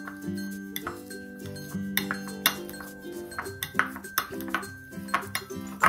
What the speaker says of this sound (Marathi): स्मॅशरने ना लगेच बटाटा स्मॅश होतो